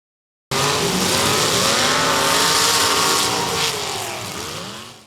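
A race car engine with a Mopar-style V8 bark revs hard at a tribute, starting abruptly after a short silence and holding loud, sustained throttle with rising and falling pitch before easing off slightly toward the end.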